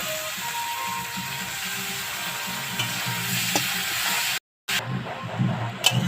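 Cauliflower frying in a pan with chili and tomato gives off a steady, close sizzle. Scraping stirs run through it, and the sound cuts out briefly near the end.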